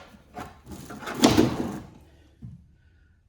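A storage drawer in a 2005 Haulmark 28-foot race trailer slides open with a rough wooden rumble and is pushed shut with a softer thud a moment later, close to the microphone with no speech.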